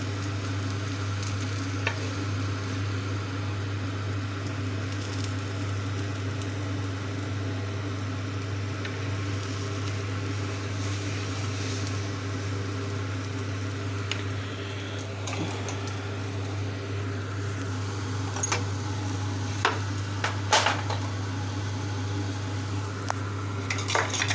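Banana crepe frying in a pan, with a steady low sizzle under a constant kitchen hum, joined by scattered clinks of a flat spoon against the pan as it is flipped. No talking.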